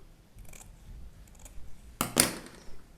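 Scissors snipping flower stems at an angle while a bridal posy is arranged by hand, one or two sharp close cuts near the end after faint rustling.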